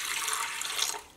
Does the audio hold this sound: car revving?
no